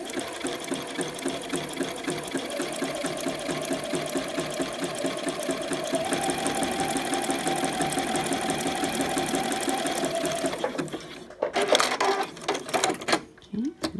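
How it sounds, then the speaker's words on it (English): A sewing machine runs a steady zigzag stitch through elastic piping, a fast continuous mechanical chatter for about eleven seconds that stops abruptly, followed by a few short handling knocks. "I'm sewing with zigzag here, and I'm going to, slightly stretch this."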